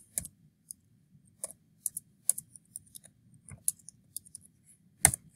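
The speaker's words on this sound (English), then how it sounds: "I am going to have to type in the barcode" Quiet, irregular clicks of computer keyboard keys as a barcode number is typed, light taps scattered over a few seconds with one louder click near the end, over a faint low hum.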